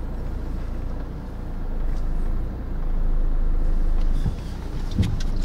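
A car drives slowly on a forest dirt road, steering around a puddle, with a steady low engine rumble that swells and eases, plus a few faint knocks near the end.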